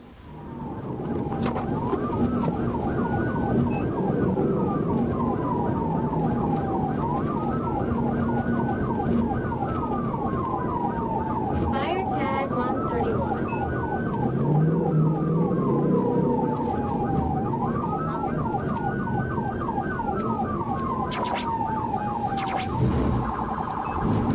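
A police car siren wails in steady rising-and-falling cycles, loud and continuous over road rumble, during a high-speed pursuit on a 65 mph highway with a fleeing vehicle topping 130 mph.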